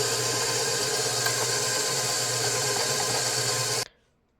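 An electric mixer whirs steadily at close range, beating softened butter for butter icing, a continuous buzzing drone that cuts off abruptly near the end.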